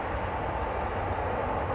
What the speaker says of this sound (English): That plane was coming in from Austin, that one that just landed.